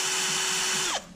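A power drill runs a bit through the bottom of a Porsche 968 front strut, a loud, steady high whine for about a second, then the motor pitch drops sharply as it spins down and stops.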